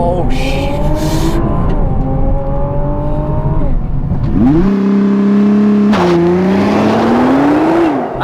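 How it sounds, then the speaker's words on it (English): A 2020 Nissan GTR 50th Anniversary Edition launches hard under launch control, its engine revving loudly and climbing through quick gear changes with a roaring, close acceleration that rises and surges across the run. "Time for some launch control."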